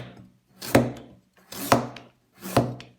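A knife slicing through peeled pumpkin on a board, three separate close crisp chops with a woody thunk, evenly spaced about a second apart with quiet gaps between.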